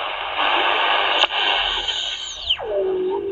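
Sony ICF SW10 compact multiband radio from the 1990s tuned across the shortwave band, a steady hiss of static with a faint whine, then a tuning sweep that drops into a lower, clearer tone near the end.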